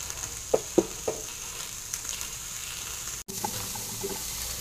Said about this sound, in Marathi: आपण पॅन वरती असे छान असे थोडे भाजून घेणार आहोत।